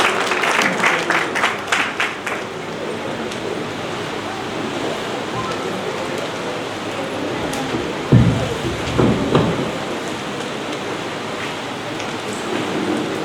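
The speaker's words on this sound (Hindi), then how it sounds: "जोरदार तालियों से स्वागत होना चाहिए।" Dense clapping from a crowd at a UPSC exam seminar in Bikaner fills the space as a continuous rushing patter, with a few sharper claps near the start and a bump of noise partway through.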